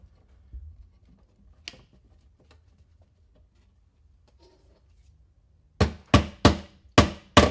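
A hammer drives staples over electrical cable in a basement bedroom. After a long near-silent stretch with a few faint taps, five sharp, close, evenly spaced blows ring out.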